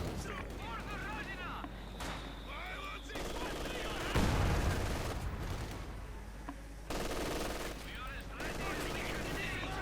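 Dense gunfire and mortar strikes in a Company of Heroes 2 one-versus-one battle, with machine-gun bursts, rifle shots and heavy booming impacts continuing throughout under steady game noise.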